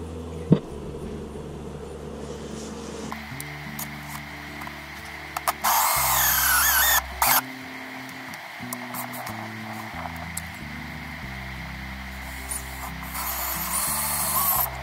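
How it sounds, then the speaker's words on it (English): A power drill fitted with a hole saw bit cuts a 1 3/4 inch hole while installing a Camco Tornado rotary tank rinser, a steady motor whine with a grinding bite that rises and eases, close and continuous with no talking. "now we will take our hole saw bit and we will go ahead and drill the 1 3/4 inch"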